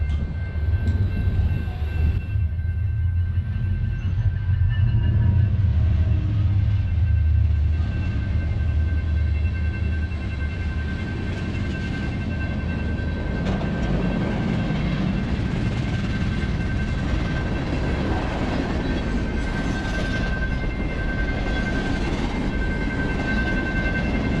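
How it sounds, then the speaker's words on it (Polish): A long, loud rumble of a passing American train, steady and roaring throughout with a faint high tone riding over it. "Idziemy zobaczyć amerykański pociąg, będzie jechał."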